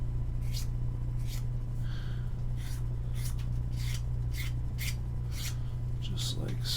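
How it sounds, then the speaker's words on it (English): A file scrapes burrs off a metal piece for a reusable mold box used to cast scale model parts. A dozen or so short, close rasping strokes come in an uneven rhythm over a steady low hum. "I'm going to take the burrs off of this"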